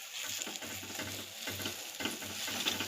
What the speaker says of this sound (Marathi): तर हे मस्त परतून घेऊया